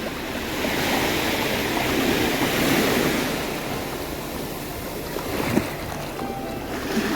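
Sea waves wash and recede over the sand at Devbag beach in Sindhudurg on a calm morning, a continuous close surf hiss that rises and falls gently, with light wind noise and no talking.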